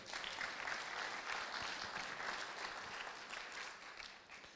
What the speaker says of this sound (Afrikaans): Geef hulle lekker hande klap.